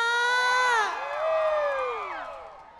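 An audience at a Thai country music concert cheers with a few high, gliding whoops and shouts that swell, then taper off over about three seconds.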